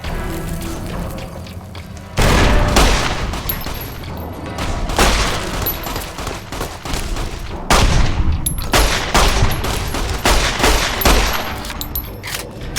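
Rapid gunfire in Fallout: New Vegas against Powder Gangers, loud volleys of shots with booms and thuds repeating through the scene, with no talk.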